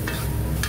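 Nasi goreng kampung with meatballs and shrimp is stir-fried in a wok for 20 portions, heard as a loud, continuous sizzle with two brief metallic scrapes of a spatula against the pan, close up.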